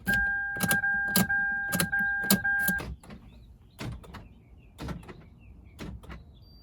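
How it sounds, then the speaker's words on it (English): A car door lock actuator clicks and thunks repeatedly in a quick series, loud and close, followed by several softer mechanical clunks. "Once you hear your lock cycle, then you know you're ready for programming mode"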